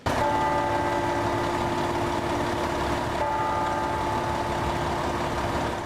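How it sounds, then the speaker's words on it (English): A fire engine at a volunteer firefighter's funeral holds a steady, loud, droning engine roar with a constant low hum and tonal whine, unbroken and with no voices. "The roar of the engine,"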